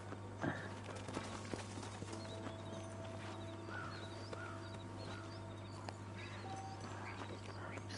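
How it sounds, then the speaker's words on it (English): Horse hooves clip-clop at a steady walking pace in the game Red Dead Redemption, faint, under a low constant hum and occasional bird calls. "Just get the horse to follow us as we go this way."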